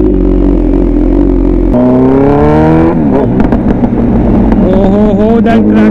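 A Kawasaki Z900 motorcycle just back from its fourth service rumbles and revs loudly up close, its exhaust note rising through a gear change with crackles and pops. No one talks.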